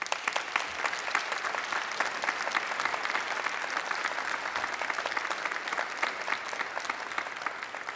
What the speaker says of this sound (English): Graduates, let's face our family and friends and clap and show them our